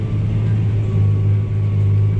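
Tractor pulling an older Unia plough through a field, a steady loud low diesel drone with constant rumble and no talk throughout.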